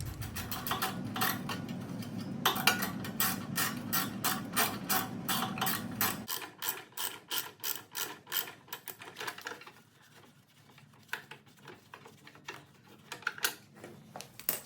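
A hand ratchet clicks rapidly and rhythmically while backing bolts out of the cover on an Ariens snowblower, running in quick bursts of close, crisp ticks with short pauses.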